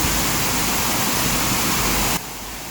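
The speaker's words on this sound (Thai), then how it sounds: "เดี๋ยวเราจะไปดูน้ำตกก่อน" A waterfall in the mountains near Srinagarind Dam, Thailand, gives a loud, steady, close rushing roar that drops to a quieter level near the end.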